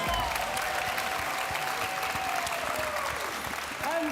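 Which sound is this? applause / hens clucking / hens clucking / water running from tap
applause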